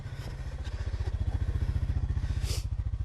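An old, rusting handheld plough engine chugs at a fast, even rhythm of low thumping pulses, close and steady, with a little rattle over the top and no talk.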